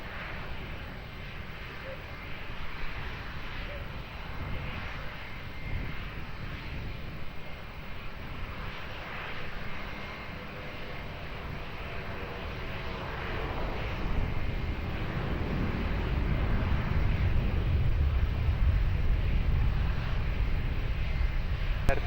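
A fixed-wing airliner on approach to runway 20 at Lisbon Airport, its engine roar a steady broadband rumble that grows louder and nearer over the final seconds, with no voices.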